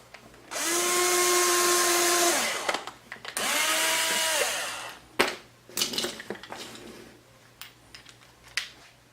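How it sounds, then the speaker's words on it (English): A power drill bores a 1/16 inch pilot hole into wood, two close whirring runs, then clicks and handling clatter of tools. "we're drilling in to the wood as a pilot hole"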